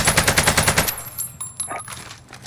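AK rifle firing in the game Warzone, a rapid automatic burst of close, loud shots in steady rhythm for about a second, then stopping into faint scattered clicks and background noise.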